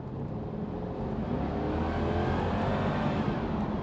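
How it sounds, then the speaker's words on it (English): A 2001 Jaguar XK8 4.0 convertible engine in sport mode roars steadily and close, its pitch climbing gradually as it accelerates, with no voices over it. "let's listen to that engine again. We'll put it in sport."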